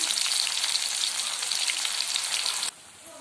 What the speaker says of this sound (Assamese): কেৰাহীটো গৰম হোৱাত মই তাত ইয়াতে পিয়াজখিনি দি দিছো।